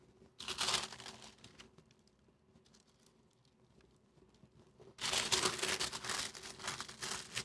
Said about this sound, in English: I'm going to turn it this way so the paper can help me roll it up